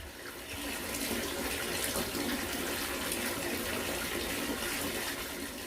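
Tap water runs steadily and fairly loudly into a bath as it fills, a broad continuous rushing that holds for several seconds with no voices over it.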